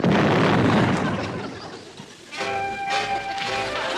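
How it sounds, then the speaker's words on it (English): Grenade explosions in a 1960s TV comedy war scene: a loud, rumbling blast opens and slowly dies away, followed by a second swell of noise with ringing tonal sounds over it. "throw a couple of grenades at him"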